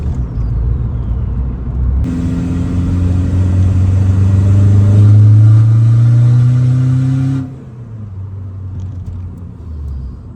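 A 1.9 TDI car fitted with a 3-inch downpipe and no exhaust, heard from inside with the windows closed: a loud droning rumble that swells as the engine pulls for several seconds, then drops back to a lower idle-like hum.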